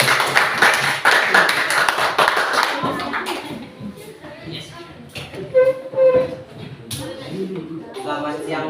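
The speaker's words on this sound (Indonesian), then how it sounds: "Tepuk tangan untuk kelompok 4" A classroom audience claps for a student group, a brisk burst of clapping for about three seconds that fades out, followed by voices talking.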